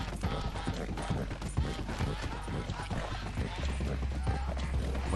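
A horse's hooves clip-clop steadily in the video game Red Dead Redemption 2, mixed with game sounds and a low rumble.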